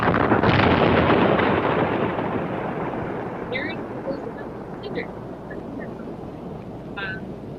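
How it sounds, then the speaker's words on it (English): Buried explosives detonated in cinder deposits, a loud boom that rolls into a long fading rumble, followed by faint distant sounds as a voice speaks softly. "they buried a bunch of explosives in there"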